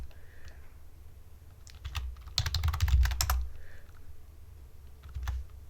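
A computer keyboard gets a short, fast burst of clicking keystrokes in the middle, with a few scattered taps before and after over a low background hum.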